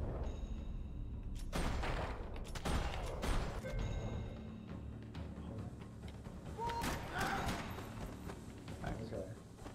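Gunfire in the video game Max Payne 3, several sharp shots and thumps spread over the stretch, moderately loud against game ambience, with a voice talking over parts of it.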